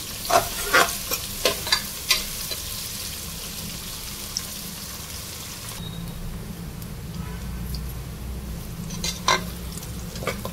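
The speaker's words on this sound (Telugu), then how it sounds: "ఆనియన్ మంచిగా వేయించుకోవాలి, బ్రౌన్ కలర్ వస్తుంది." Onions fry in a pan until brown, a steady close sizzle punctuated by sharp spatula taps and scrapes against the pan.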